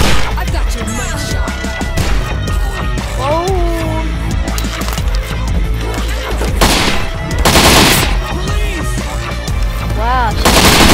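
Loud, dense gunfire in the video game Postal 3, rapid bursts of shots mixed with in-game voices, shouts and squawking game effects throughout.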